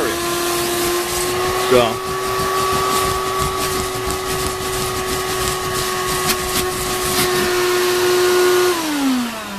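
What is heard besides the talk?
6.5 horsepower shop vacuum vacuuming carpet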